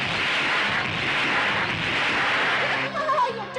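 Artillery fire and explosions from a battle scene in a film, a loud, dense, continuous roar of blasts and rumble that gives way at the end to a brief voice.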